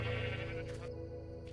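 A Minecraft sheep on a farm gives one wavering bleat, fairly quiet, with its harmonic voice sounding alone.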